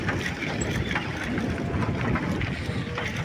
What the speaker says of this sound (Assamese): কি বতাহ দিছে